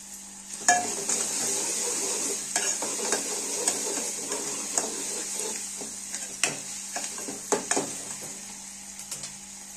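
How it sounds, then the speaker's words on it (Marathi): Onion and tomato fry in a pan until browned, turmeric just added, a steady close sizzle broken by repeated spatula scrapes and taps against the pan, with no one talking. "कांदा आपला मस्तपैकी लाल रंगावर भाजलाय"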